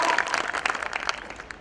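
An audience at a business opportunity seminar breaks into applause, a close, dense burst of clapping that swells and then gradually thins and fades, with no speech over it.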